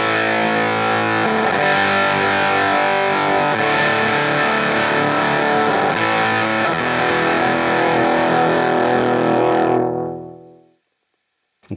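Electric guitar through a homemade Fuzz Face pedal with germanium transistors gives a thick, saturated fuzz tone that holds as one loud, sustained chord for about ten seconds, then fades out into silence.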